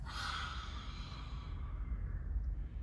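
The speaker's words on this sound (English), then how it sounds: "Inhale, exhale, lion's breath." A single forceful lion's breath exhale in a home yoga session, a soft breathy whoosh that fades over about two seconds, quiet and close.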